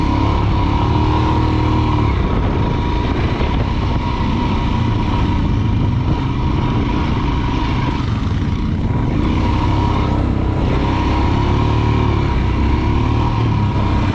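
A motorcycle engine runs loud and close near Leh, Ladakh, a continuous buzzing drone mixed with rushing noise that holds steady for the whole stretch without clear pauses.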